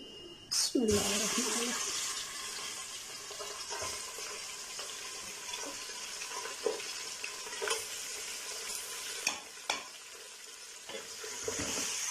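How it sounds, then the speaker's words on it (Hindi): One kilogram of mutton hits hot crisped spices for Kashmiri rogan josh, starting with a sharp burst of sizzling, then frying hiss continues under intermittent scraping stirs of a spoon in the pot. "अभी यहाँ हमारे पास 1 केजी जो है वो मटन है वो डालेंगे"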